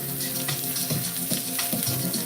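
Steak searing in a pan over medium-high heat, a steady broadband sizzle with soft crackles running continuously at close range, no talking.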